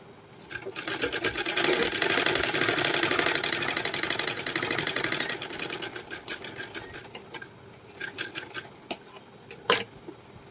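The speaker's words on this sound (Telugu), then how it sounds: "ఈ వీల్ని హ్యాండ్తో తిప్పుకుంటూ కుడుతున్నాను" A hand-wheel sewing machine stitches a blouse lining with several seconds of steady, close mechanical whirring, then slows into a few separate clicks and rattles.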